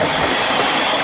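Water poured onto a hot sauna stove with a built-in fireplace bursts into a loud, close, steady hiss of steam that fills the whole moment.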